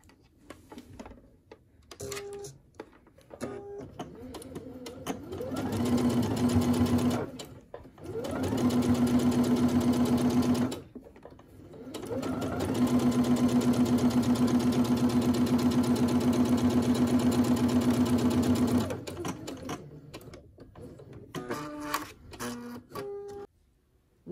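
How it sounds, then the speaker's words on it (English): A sewing machine top stitching a garment runs in three steady bursts of rapid stitching, pausing briefly between runs, with soft handling noises before and after. "I will take it to my sewing machine so that you can see for yourself"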